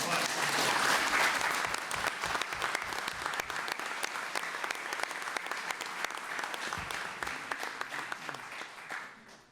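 A room at a town Board of Selectmen meeting breaks into a full round of applause, dense and steady clapping that starts loud and tapers off near the end.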